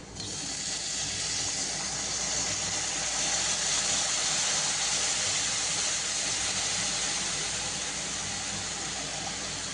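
Sour Amul buttermilk poured into a pan of roasted spices sizzles loudly, a broad steady hiss that swells and holds for several seconds with no talk.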